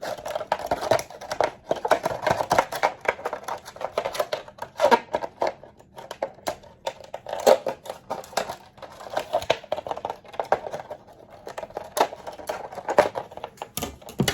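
Scissors cut through the plastic of a gallon jug to trim the corner of a homemade face shield, giving a rapid run of crisp snips and crinkles close by, repeated in bursts throughout.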